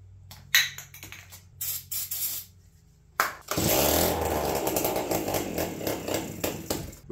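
An APC mini chopper engine is cranked with the key on: sharp clicks and short mechanical bursts with gaps, then a sustained loud, rough buzzing roar that sputters as the motor tries to catch.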